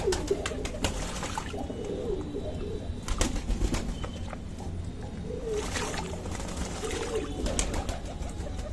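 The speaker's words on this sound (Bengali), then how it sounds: "দেখো পায়রাগুলো কত সুন্দর নেমেছে জলের মধ্যে চান করছে" Pigeons bathing in a shallow water dish, with soft coos and bursts of wing flapping over a steady background hiss, fairly close by.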